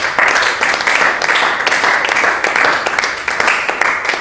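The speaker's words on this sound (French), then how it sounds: "Est-ce qu'on peut encore applaudir pour le Seigneur?" A church congregation applauds for the Lord during a children's Sunday school service, with steady, dense clapping that is loud and close throughout.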